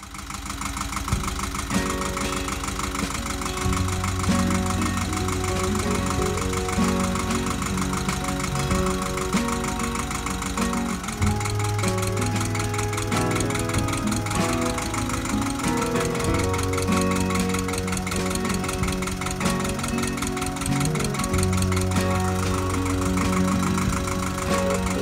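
A tractor engine runs steadily and loudly at close range, a throbbing idle with a knocking mechanical rhythm and slight shifts in pitch, with no talking over it.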